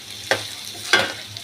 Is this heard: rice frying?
yes